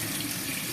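Tap water gushes steadily for a bubble bath, a dense continuous splashing rush, loud and close with no voices.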